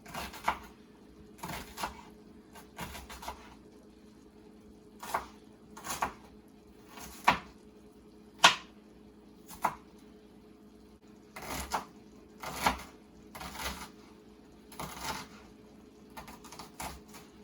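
A knife dices vegetables on a cutting board, making sharp, close taps in uneven clusters with short pauses between them.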